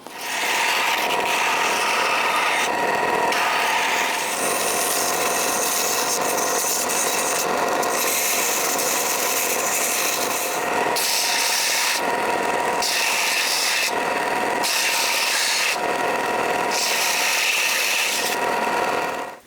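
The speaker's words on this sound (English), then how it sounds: "when I'm done with the belt sander" A belt sander grinds the edges of a stainless steel exhaust pipe with a steady loud rasping whine, broken by brief regular pauses as the workpiece is lifted and repositioned.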